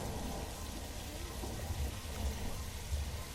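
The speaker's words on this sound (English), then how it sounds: "It shoots the water up at gravity, brings it back down to give us a very natural rainfall." Artificial rainfall from a studio sprinkler system on a Hollywood backlot, water shot upward and falling back as steady, dense rain, with heavier splatters and low rumbles at moments.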